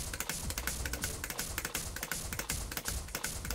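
Rapid clicky taps on hitbox controller buttons performing a Tekken 8 wavedash input, a steady fast rhythm of sharp keyboard-like clicks, close and clear with no talk.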